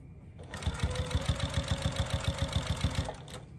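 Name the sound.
sewing machine stitching a minky baby blanket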